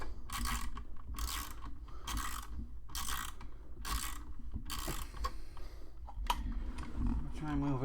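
Repeated ratcheting of a tool tightening parts on a Valentino Rossi replica model motorcycle build, about eight rhythmic bursts of clicking, close and clear, with low talk running underneath.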